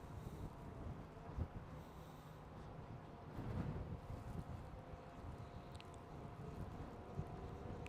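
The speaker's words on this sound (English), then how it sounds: "God, it's really windy today." Gusty wind buffets the microphone outdoors near Liverpool's Anfield stadium, a steady low roar with stronger surges, alone without talk.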